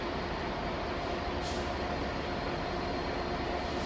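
Class 66 diesel locomotive 66197 arrives with a train on the up main line at Lincoln Central, a faint, steady rumble throughout.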